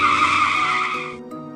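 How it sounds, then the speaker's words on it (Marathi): A car brakes hard on a rain-soaked road, its tyres letting out a loud, sustained skidding squeal that holds steady for about a second before cutting off abruptly. "अथर्वने जोरात ब्रेक मारला."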